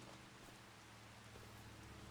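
Steady rain falls in Farming Simulator 25 as a continuous, even hiss with no breaks or speech. It is faint and uniform throughout.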